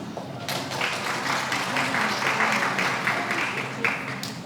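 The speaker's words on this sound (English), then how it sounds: "We can clap while they're walking." An audience at a school recognition day ceremony claps steadily while honorees walk, a continuous moderate patter of many hands with a few sharper individual claps standing out near the middle and end.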